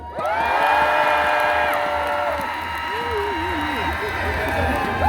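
Fans at a concert in Geochang let out a loud, sustained collective shout of many voices that holds for a couple of seconds, then breaks into scattered whoops and crowd noise.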